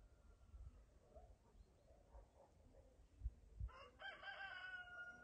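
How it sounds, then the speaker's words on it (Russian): Roosters crowing outdoors at the foot of cliffs in Crimea in November, a faint distant crow followed by a clearer, closer one near the end over quiet background noise. "Ну, петухи поют."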